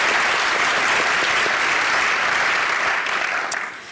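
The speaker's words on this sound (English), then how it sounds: "So big round of applause for all of our panelists." An audience applauds panelists at a discussion on cellular agriculture and meat without animals, a dense, steady clapping from a roomful of people that thins slightly at the end.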